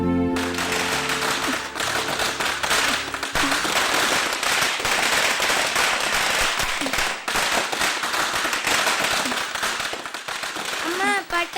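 Firecrackers go off nearby in a domestic Tamil drama scene. A dense, continuous crackle of loud pops and bangs runs throughout, with voices mixed in.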